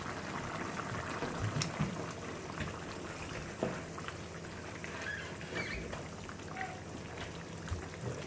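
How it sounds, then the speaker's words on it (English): Water with potatoes bubbles in a cooking pot, giving a busy, irregular patter of small pops and gurgles throughout, with a few louder clicks standing out. "As you can see, the water is bubbling."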